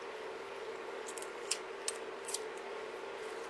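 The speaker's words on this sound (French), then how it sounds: "avec mes super ciseaux, faut que je les nettoie" Scissors snip sharply three or four times, quiet crisp cuts spaced across a few seconds over a faint steady background hum.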